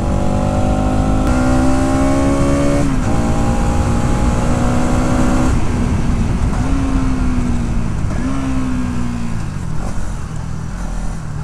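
A 2024 Bajaj Pulsar 200NS with a slipper clutch downshifts while cornering. The engine drones loudly and continuously up close, its pitch stepping up and sliding down with each gear change.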